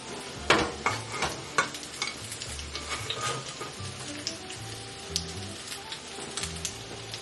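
Salmon fillet sizzling in a pan over medium heat for a pasta dish, a steady close frying crackle with scattered louder pops and spatters running throughout, no talking.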